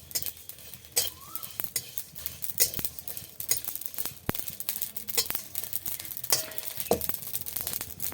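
Cumin seeds frying with dried red chillies in a pan, a faint steady sizzle broken by sharp scattered clicks and scrapes of a utensil against the pan.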